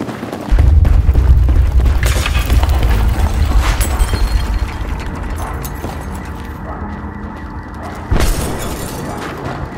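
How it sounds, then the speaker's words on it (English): Ammo dumps explode in Battlefield 3 with a loud, deep boom that rumbles and fades over several seconds, followed by a second heavy blast and debris crackle. "Someone needs to tell the OD to blow those ammo dumps further away."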